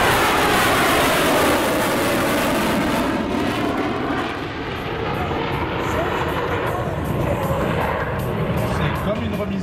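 Loud, steady roar of a low-flying airplane's engines in a slow, high-angle low pass at an air show, sweeping past at close range, the broad noise fading slightly midway before swelling again.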